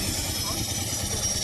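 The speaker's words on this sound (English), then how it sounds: "the steam powered saw" A steam powered saw at a country show, driven by a belt from a tractor engine and cutting up logs, runs as a steady rumbling mechanical drone with constant broadband noise and no clear breaks.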